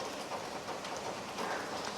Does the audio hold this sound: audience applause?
no